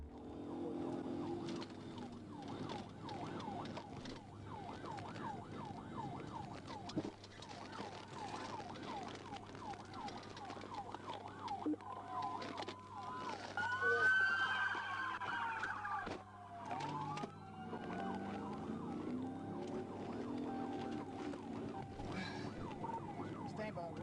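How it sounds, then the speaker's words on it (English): A police car siren wails during a pursuit, rising and falling steadily under engine and road noise, with radio-style voices talking over it. "he immediately activated his emergency lights and siren and began pursuing the suspect"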